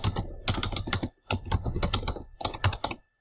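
Typing a file name on a computer keyboard, with quick bursts of keystrokes that come close and clear, separated by short pauses and ending in a brief stop.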